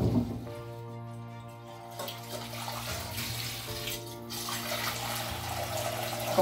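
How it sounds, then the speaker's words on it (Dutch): Tap water runs steadily into a kitchen sink while Brussels sprouts are washed, a continuous rushing splash mixed with a sustained tonal hum, at moderate level throughout. "dan ga ik even de spruitjes wassen."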